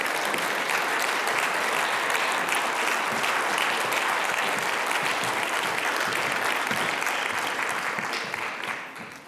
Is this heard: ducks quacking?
no